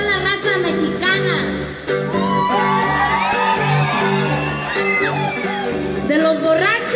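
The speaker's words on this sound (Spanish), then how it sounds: "quiero escuchar este grito de toda la raza mexicana" A live crowd at a Mexican music concert lets out loud whoops and shouted gritos, rising and overlapping in bursts over a sustained musical backing.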